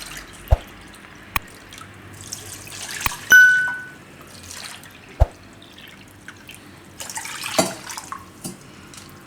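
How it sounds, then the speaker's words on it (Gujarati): About two cups of water are poured over one cup of rice in a kadai for saffron sweet rice. Sharp metallic clinks and clangs ring out, with short splashing bursts of water, nearby and otherwise quiet. "તો આપણે એમાં 2 કપ જેટલું પાણી નાખીશું."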